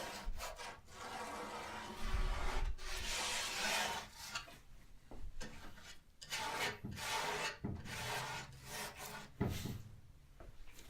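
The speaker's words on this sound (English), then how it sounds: "the knife is kind of a economic way of using as much of the paint as I can, just because I can get it quite thin" A palette knife scrapes and spreads paint thinly across a painting surface in repeated rasping strokes, close and fairly quiet, with short pauses between passes.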